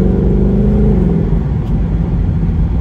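A 2019 Ford Mustang GT Premium V8 revs hard and loud during a downshift, a deep, throbbing burble that holds steady and close with no voices.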